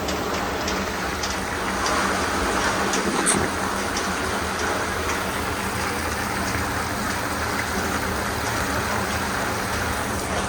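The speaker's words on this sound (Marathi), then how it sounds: "पाऊस तर चालूच आहे." Steady rain falls with a constant hiss, unbroken for ten seconds, with a faint engine hum underneath.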